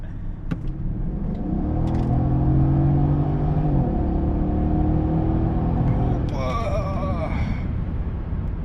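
Mercedes E550 W212 with a biturbo V8 accelerates hard in sport mode, a sustained deep engine rumble rising through the gears, heard from inside the cabin with a brief voice near the start.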